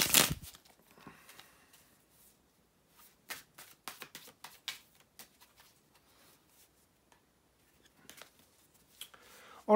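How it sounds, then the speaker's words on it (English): Tarot cards being shuffled by hand in short irregular bursts of riffling and sliding, close and fairly quiet, with pauses between bursts. "bear with me just a couple of seconds guys to shuffle the tarot cards"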